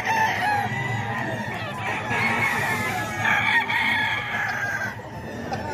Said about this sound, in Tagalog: Isa sa mga dala ni Kuya Batang na manok mga kaidol dito sa Bukawi